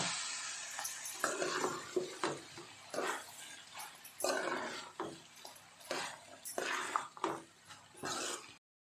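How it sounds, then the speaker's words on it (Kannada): Cooked vermicelli (shavige) with softened vegetables being stirred and mixed in a pan, giving a run of close, repeated scraping and sticky tossing strokes in uneven bursts, with no voices over it. "ಇದಕ್ಕೆ ಈಗ ಶ್ಯಾಮಿಗೆ ಹಾಕ್ಕೊಳ್ಳುವ ಇದನ್ನೀಗ ಮಿಕ್ಸ್ ಮಾಡಿಕೊಳ್ಳುವ"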